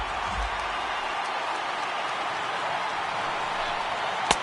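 A stadium crowd of over 39,000 at a baseball game, on their feet in the final strike, makes a steady, dense roar of cheering that holds throughout, with a sharp clap near the end.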